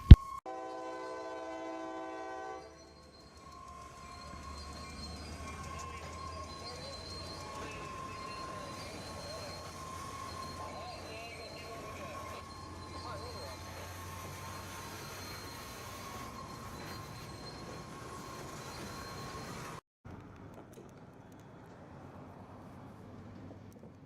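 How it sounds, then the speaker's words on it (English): A CSX freight train pulls a cut of Heart of Georgia interchange cars through the rail crossing diamond at Cordele, Georgia, opening with a loud horn blast, then a long steady rumble of rolling cars with squealing wheels and clanking, no voices. "CSX A730 pulls forward with the entire cut of Heart of Georgia"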